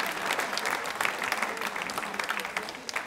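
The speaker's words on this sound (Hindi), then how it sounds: "जोरदार तालियां बजाइए," Steady applause from a crowd, dense clapping that fills the whole stretch with a few louder bursts, fairly close and continuous.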